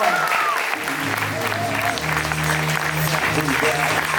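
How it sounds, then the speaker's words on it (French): A theatre audience applauds improv comedians after a show, steady loud clapping throughout with some crowd noise and a voice briefly heard under it. "on peut les applaudir très fort"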